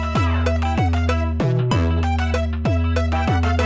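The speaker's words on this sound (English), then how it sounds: "I'm actually using the real brass sound" Sampled real brass section from a Kontakt library in a K-pop arrangement, playing punchy repeated stabs over a heavy sustained bass in a steady rhythm, loud and full, with no voices.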